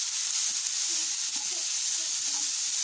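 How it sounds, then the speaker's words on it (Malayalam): Ground paste hitting hot ghee in a pan for carrot halwa, a steady close sizzle and hiss with faint crackles throughout, no voices. "അപ്പോൾ ഇനി ഈ നെയ്യിലേക്ക് ഞാൻ നമ്മുടെ അരപ്പിൽ ഇട്ട് കൊടുക്കുകയാണ്"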